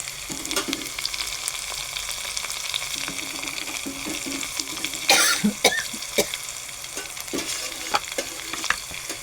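Spices sizzling in hot oil for a tempering, with turmeric and garlic going into the pan, a steady crackling fry broken by stirring clatter and a sharp burst midway, close and fairly loud with no talk.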